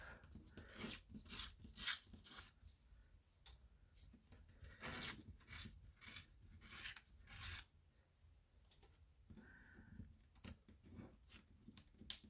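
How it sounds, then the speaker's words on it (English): Part of a paper journal cover is torn and rubbed off by hand, close and fairly quiet, in several short rasping, ripping bursts separated by pauses. "Now this one, tear this part off."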